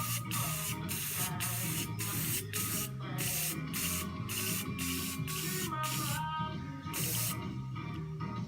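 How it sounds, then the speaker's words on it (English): Spray can laying a light primer coat onto the body of a 1963 Chevrolet Bel Air, heard as a rapid series of short, close hissing bursts separated by brief pauses. "you can just kind of give it a light coat of spray paint"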